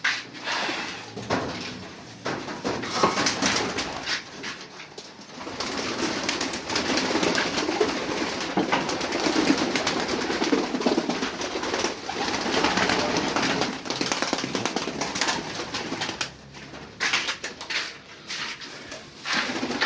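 Pigeons coo continuously in overlapping low, throaty calls during summer vaccination, close and fairly loud, with occasional fluttering and shuffling.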